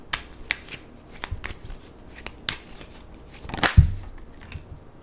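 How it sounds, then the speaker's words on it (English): Tarot cards being shuffled in a quiet room, a series of crisp riffling flicks and soft slaps spread over several seconds, close and clear with no talking. "It's a little tarot shuffle ASMR for you all"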